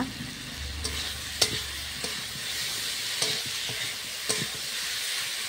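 Potatoes sautéing in a pan with chili powder, spices and slit green chilies, giving a steady close sizzle broken by sharp clicks and scrapes of a spatula stirring at irregular intervals, with no talking.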